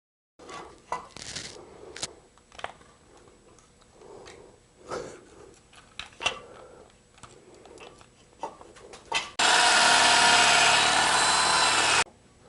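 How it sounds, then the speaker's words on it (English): A few bumps and clicks, then a power drill whirs loudly and continuously for a few seconds while boring pilot holes on a Firebird before stopping. "drill a couple of pilot holes"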